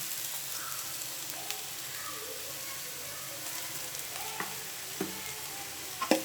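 Beans and cauliflower fry with peanut powder in a pan, a faint, even sizzle with occasional soft stirring taps and one louder scrape at the end.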